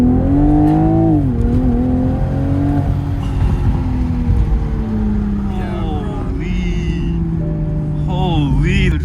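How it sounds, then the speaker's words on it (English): A 2021 Toyota Supra on its stock exhaust revs hard and loud with rising and falling pitch, mixed with excited voices talking over it. "Is this that stock exhaust? Yeah, this is the stock exhaust."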